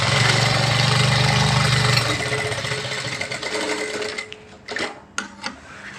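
A sewing machine stitches piping onto fabric, running in a fast, steady whir for about two seconds before stopping, followed by a few soft handling clicks and rustles.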